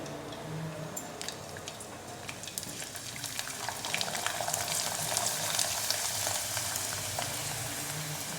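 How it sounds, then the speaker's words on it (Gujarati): A rice papad with green garlic fries in hot oil, giving a soft, steady bubbling sizzle with scattered crackling pops that build slightly toward the end, heard alone. "પાપડને આપણે તેલમાં તળાવવા માટે મૂકી દઈએ"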